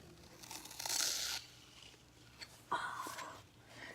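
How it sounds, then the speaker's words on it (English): A knife cuts a jelly cube slime in half, giving two soft, squishy tearing sounds: a longer one early on, then a shorter one after a pause, each close and fairly quiet. "Let me cut one in half like this."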